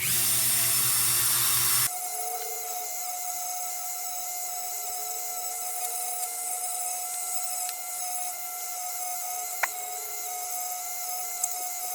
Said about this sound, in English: Let's explore with a little bit of nylon bit.